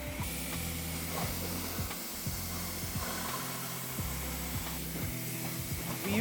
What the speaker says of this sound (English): the pressure washer just to assist in removing some of that heavy grime